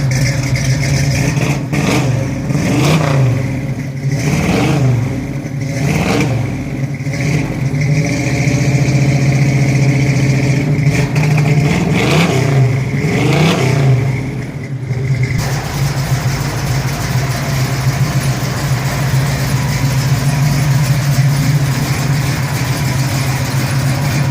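A 1969 Pontiac Firebird with a 400 engine revs repeatedly in loud rising-and-falling bursts, then settles into a steady, throaty idle for the final stretch.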